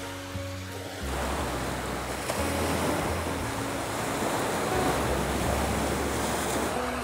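Sea waves roll onto the Fukutsu coast at sunset, a broad, steady roar of surf with some wind noise on the microphone, loud and continuous after a quieter opening second.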